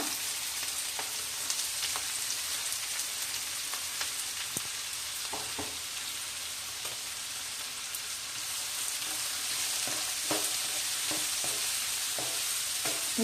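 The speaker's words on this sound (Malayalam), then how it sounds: "എണ്ണ കറിവേപ്പില മൂത്തതിന് ശേഷം ചെറിയ ഉള്ളി, ആവശ്യത്തിനുള്ള സവാള," Shallots and onions frying in hot oil with curry leaves, a steady close sizzle with occasional stirring scrapes and pops, no talking.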